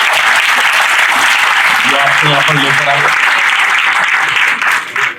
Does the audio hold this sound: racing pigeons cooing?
no